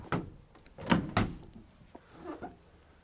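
Rear doors of a 2015 Ford Transit Custom 2.2 TDCi panel van swinging open, giving a few close, dull thunks and latch clunks spaced over a few seconds, with quieter rattles between.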